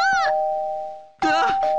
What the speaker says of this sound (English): It won't stop ringing the doorbell!